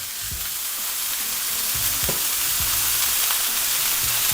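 Loose meatballs for onion smash burgers sizzle loudly on foil in a continuous, close frying crackle that stays dense and even, with no talk over it.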